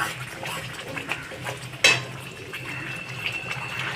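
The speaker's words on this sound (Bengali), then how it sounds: "আমাদের ভেজে রাখা সমস্ত ফুলকপি আমরা দিয়ে দিলাম দিয়ে ভালো করে আমরা নাড়িয়ে নিচ্ছি" Fried cauliflower pieces tipped into a pan for a roast dish and stirred, soft scraping and clatter with one sharp knock midway, fairly quiet and without speech.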